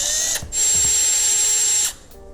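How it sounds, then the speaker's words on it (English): A power drill with a bit widens a hole to 3/8 inch during a motorcycle integrated LED undertail install. It gives a loud, steady high whine, pauses briefly, then spins up and runs again before easing off. "we're going to want to open up that hole to 3/8 inch with a drill bit."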